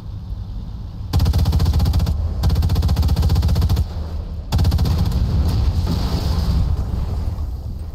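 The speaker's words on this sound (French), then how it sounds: "Oh, il a MG42." An MG42 machine gun fires in the Sniper Elite 5 video game, with loud, sustained automatic bursts close by. One long burst breaks off briefly, then a second long stream of rapid shots begins.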